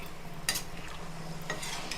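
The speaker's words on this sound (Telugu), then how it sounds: "నీళ్ళు పోసేస్తున్నాను" Water poured into hot oil over cooking brinjal in a pan, a close steady sizzle and bubbling with a few sharp clinks of a utensil, no talk.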